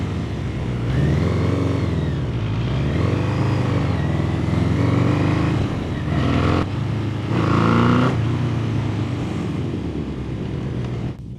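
A Yamaha FZX750 motorcycle, out for the first time after repairs, runs close by with rising and falling revs and throttle blips in several surges over a rumbling engine note.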